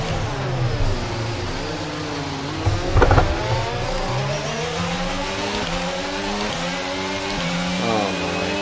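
Race cars in the F1 22 video game sweep past one after another on the Singapore street circuit, their high engine whine rising and falling in pitch over a steady background of the player's own car.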